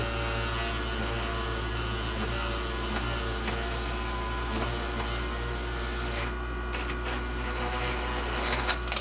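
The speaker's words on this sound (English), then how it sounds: "Just take the Dremel bit and go back through there." A Dremel rotary tool grinds a model nacelle part continuously with a steady high whine, close by, with a few faint clicks and scrapes near the end.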